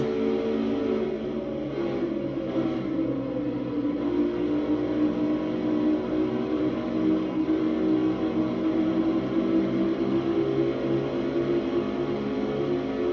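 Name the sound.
stock car racing down the front stretch at Homestead, video game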